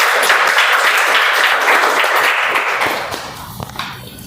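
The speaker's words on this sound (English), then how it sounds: "I would request everyone to please give a round of applause to our first runner-up position winner, Toastmaster Mega" A Toastmasters club-level competition audience gives a round of applause for the first runner-up, dense clapping from a room of people that holds steady, then fades out with a few last scattered claps.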